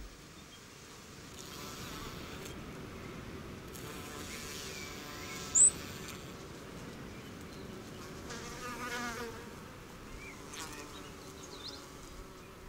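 Insects buzzing around flowers, a faint continuous hum of wings that drifts nearer and farther, with one brief sharp click midway.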